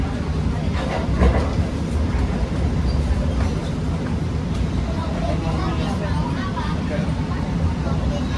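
A Kaligum passenger train rumbles past close by on the left, seen from aboard a direct train from Semarang to Jakarta, with a continuous loud rolling roar and faint rail clatter over the whole stretch.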